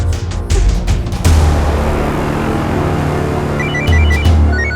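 A telephone rings in short repeated electronic trills, loud and close, with bumps and rustling handling noise early on.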